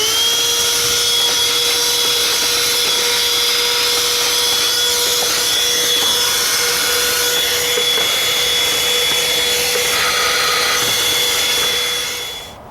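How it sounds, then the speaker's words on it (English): A small handheld vacuum runs steadily inside a car while cleaning up debris during a GM air filter replacement on a Traverse, Acadia, Enclave or Outlook, a loud continuous whine for about twelve seconds that fades out at the end. "I have my little vacuum here. I said before I was going to suck up some of the debris in here"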